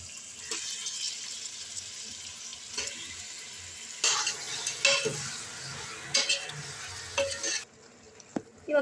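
Chicken and onions fry in hot oil in a pressure cooker, sizzling steadily while a utensil stirs and scrapes against the metal in intermittent clanks.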